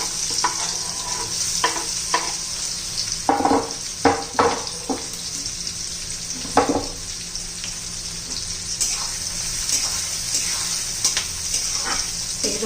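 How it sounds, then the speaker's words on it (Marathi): Finely chopped onion frying in hot oil with mustard seeds and cumin, a steady close sizzle broken by repeated scraping stirs of a spoon against the pan. "कांदाचा आपण ट्रान्सपरंट होईपर्यंत परतून घेऊ"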